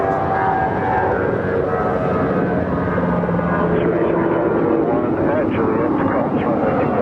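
An airliner cleared to land on runway 25 left at LAX, a steady broad roar of aircraft engine noise that holds throughout without pause.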